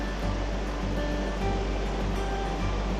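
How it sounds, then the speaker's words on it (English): A full waterfall in torrential rain roars as a dense, steady wash of noise, heavy and unbroken from start to finish with no voices. "Beautiful falls, a lot of water, and it's gonna be fun."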